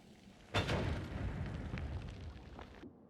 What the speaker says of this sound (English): it's easy to plop a bomb there and get this one